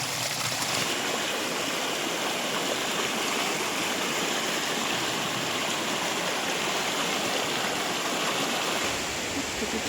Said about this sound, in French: Petite traversée de rivière, de l'eau jusqu'aux genoux.